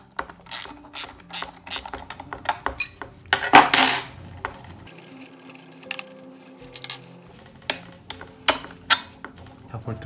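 A spanner works bolts on an Ekojin 7320 stepper, giving a run of sharp metallic clicks and ratcheting taps in irregular bursts, close and crisp, with one louder clattering rattle partway through.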